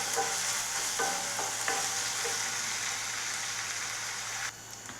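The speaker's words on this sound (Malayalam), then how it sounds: "അപ്പോൾ ഇത് നന്നായി നമുക്കൊന്ന് വഴറ്റിയെടുക്കാം." Onion and green chili sauté in a pan with salt, a continuous close sizzle broken by repeated scraping stirs of a spatula, easing off at the end.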